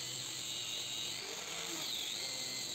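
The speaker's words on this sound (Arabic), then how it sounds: "وابتدي اساوي الحروف بتاعتها بالصاروخ" An angle grinder cuts along the edges of scrap wood pieces, a steady close high-pitched whine with grinding noise that does not let up and has no talking over it.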